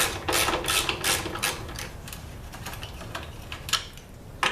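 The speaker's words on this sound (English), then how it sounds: "So using a T40. We'll take the bolts out that hold the computer on." A T40 driver backs out the bolts holding the computer on a 2012 Harley-Davidson Street Glide, making rapid, close ratchet-like clicking in bursts that thin toward the end, with no talk.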